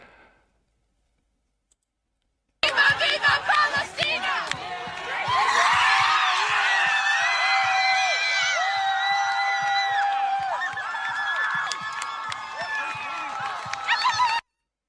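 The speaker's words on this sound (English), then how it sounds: "The group of students can be seen cheering as the American flag hits the ground" A crowd of students cheering after a flag is pulled to the ground, loud, busy whoops and shouts close by after a moment of silence, with voices mixed throughout.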